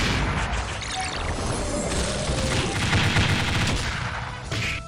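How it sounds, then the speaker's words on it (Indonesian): A time bomb goes off in the mobile game Ninja Heroes New Era, a dense run of crackling blasts and rapid popping explosions with swooshing effects, loud and continuous throughout, no talking heard. "Guys, time bomb-nya meledak duluan"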